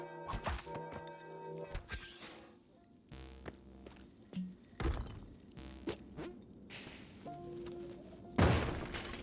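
Bombs going off in a fast-paced action video game, a run of sharp thuds, cracks and shattering bursts scattered irregularly over a busy backdrop of game music and effects, with a louder blast near the end.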